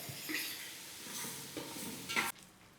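Ginger garlic paste frying in a pan while being stirred, a close sizzle broken by several scraping strokes of the spoon, which ends abruptly into quiet.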